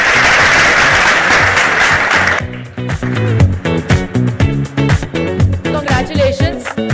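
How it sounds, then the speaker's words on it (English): An audience at the Medanta Women Shakti Awards 2024 ceremony bursts into a dense round of applause that lasts a couple of seconds. It then gives way to loud, rhythmic music. "Let's have a huge round of applause for Rising Women."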